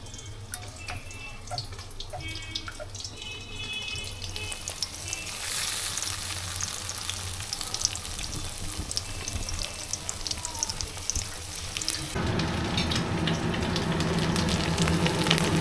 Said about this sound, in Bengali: মাছটা প্রায় অনেকটাই ভাজা হয়ে এসেছে মাঝে মাঝে উল্টে পাল্টে তোমাদেরকে একটু দিতে হবে